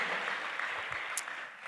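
A church congregation claps for Jesus at a worship service, a brief, fairly faint burst of applause heard at a distance.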